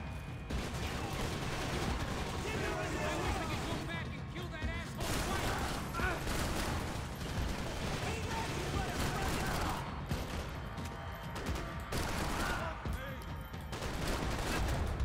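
Gunfire in the shooter game Max Payne 3, dense continuous volleys of shots and bursts filling the whole stretch, loud and relentless with a few brief lulls.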